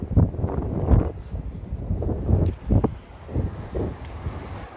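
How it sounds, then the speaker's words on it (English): Strong, gusty wind of about 20 to 30 km/h, gusting to 40 or 45, by the Yarra River at Melbourne's original port, buffets the microphone in uneven low rumbling surges with no clear talk. "Average wind 20 to 30 kilometres, it gusts up to 40, 45."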